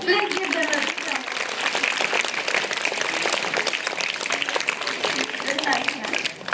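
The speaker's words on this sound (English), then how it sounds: "Please give them a big round" Audience applause at a school event, a dense, steady burst of many hands clapping that holds for several seconds, with voices mixed in underneath.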